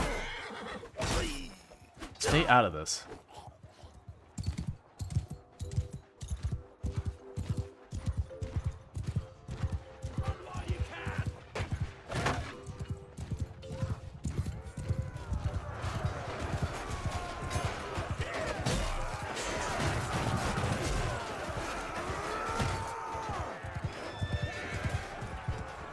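Horses in Mount & Blade II: Bannerlord neigh loudly and pound out fast rhythmic hoofbeats, galloping continuously with rising clatter and battle noise, with a brief spoken line over it.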